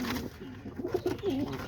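Pigeons in a loft, including new pairs with a newly hatched brown squab, giving soft, low, repeated coos, faint and close, with a gentle rolling rhythm.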